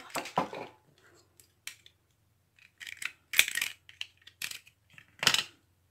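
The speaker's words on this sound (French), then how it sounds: "Alors moi, je prends ma règle. Un gros cutter." A large utility knife is drawn along a ruler through paper in a quiet room, giving a series of short, crisp scraping cuts with pauses between them.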